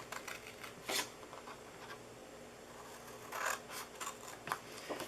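Scissors snipping through the sides of a handmade cardboard treat box for the 4th of July, a few short crisp cuts close by, quiet, with no talk.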